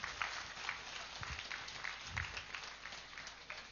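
An audience at a Buddha Purnima meditation gathering claps, a fairly quiet, distant patter of many hands that rises and falls unevenly throughout, with faint murmuring underneath.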